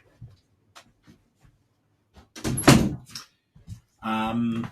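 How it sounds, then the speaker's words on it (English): An indoor door being shut in a home, heard as a short burst of knocks and a solid thump, followed by a brief scrape; quiet room otherwise, with faint soft movement sounds. "I'm just going to shut this door."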